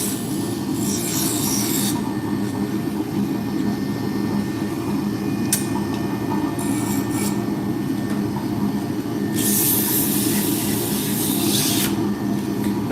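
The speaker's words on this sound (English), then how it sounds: "Switch to the spindle gouge." A spindle gouge cuts wood spinning on a lathe, giving a steady rasping, scraping hiss with a constant motor drone beneath. Brighter bursts of shaving noise come and go as the tool bites.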